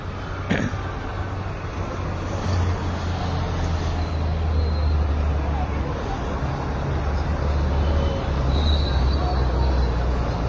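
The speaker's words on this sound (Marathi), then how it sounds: "ट्रॅफिक बघा किती आहे. खूप भयंकर ट्रॅफिक आहे." Dense road traffic at Swargate in Pune, a steady low rumble of cars, buses and trucks with a brief air-brake hiss, sustained and close throughout, with a murmur of voices in the street.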